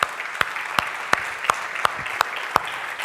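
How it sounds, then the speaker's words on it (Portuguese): Applause during a church service, heard as a rhythmic unison clap repeating about three times a second, eight or nine strong beats over a soft crowd murmur. "Quem pode dar mais um aplauso ao Senhor nessa noite?"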